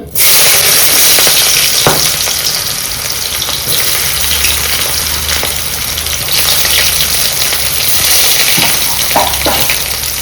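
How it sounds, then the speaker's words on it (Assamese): Chopped onions hit smoking-hot oil in a kadai and sizzle loudly and steadily, with occasional scrapes and clinks of stirring punctuating the continuous frying hiss. "এতিয়া আমি কাটি থোৱা পিঁয়াজখিনি ফাৰ্ষ্টতে দিম ইয়াতে"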